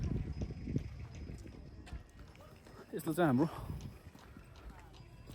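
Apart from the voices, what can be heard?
horses' hooves clip-clopping in Mustang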